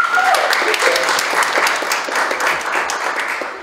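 An audience at a Polish ceremony honouring artists' work breaks into loud, dense applause, a steady roar of many hands clapping that fades slightly toward the end.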